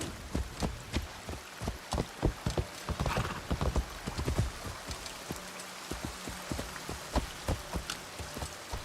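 Horse hooves clip-clopping steadily as a rider travels at a walking pace through a video game landscape, a close, regular rhythm of sharp knocks with faint patter underneath and no speech.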